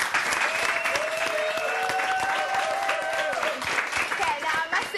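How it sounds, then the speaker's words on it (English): An audience gives a round of applause for three children at a live event, dense continuous clapping with some cheering and a voice speaking over it. "A round of applause for all of them."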